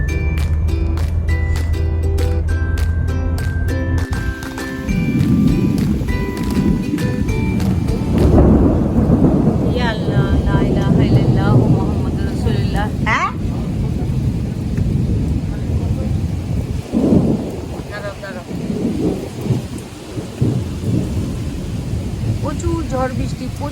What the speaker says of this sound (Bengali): প্রচুর ঝড় বৃষ্টি, প্রচুর মানে এত ঝড় বৃষ্টি বলার মতো না।